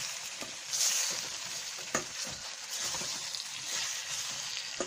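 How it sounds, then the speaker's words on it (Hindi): Green chillies and tomatoes frying on low heat for tomato salan, a soft continuous sizzle with occasional faint stirring scrapes, fairly quiet and close. "अब हम मिर्च और टमाटर को दोनों चीजों को भून लेंगे"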